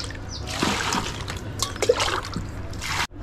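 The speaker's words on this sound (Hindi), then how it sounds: "तो अब इसको हम साफ पानी से धो लेते हैं।" Chichda (snake gourd) being washed in clean water in a home kitchen, with soft trickling, sloshing and light splashes close by, brief and fairly quiet.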